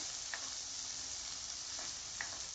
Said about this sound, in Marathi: त्यामध्ये 1 चमचा बटर टाकणार आहे। मोठे बारीक चिरून घेतलेले कांदा आपण टाकूया।